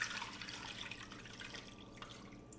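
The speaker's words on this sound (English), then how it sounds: "I'm just going to pour my water over the top." Water poured from a container over a birria bomb sitting in a pot, giving a steady trickling, splashing stream that runs continuously and eases off toward the end, close and fairly soft with no voices.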